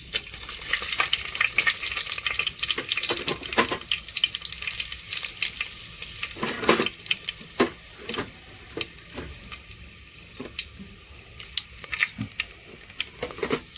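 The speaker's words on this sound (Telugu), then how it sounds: "ఎండుమిరపకాయలు వేసేస్తున్నాం." Dried red chillies sizzle in hot oil with a constant crackle, scattered with small sharp pops and clicks, close by and without speech.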